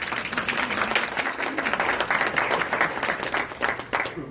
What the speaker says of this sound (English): I think that General McDaniels deserves a round of applause.